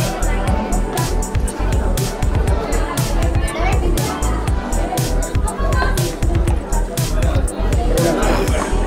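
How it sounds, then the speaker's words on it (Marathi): A dense crowd outside the Ellora caves, a loud continuous babble of many overlapping voices with children among them and occasional vehicle noise beneath. "इथलची गर्दी का कमी होत नाही."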